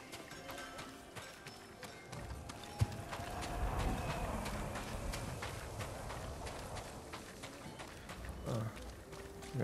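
Horse hooves clip-clop steadily in the video game Ghost of Tsushima, a rhythmic patter of footfalls at moderate volume over ambient game sound, with one sharp thump partway through.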